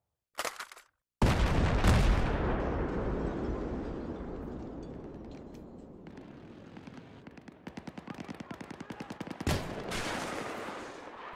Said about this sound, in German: Und das Snipern, Leute.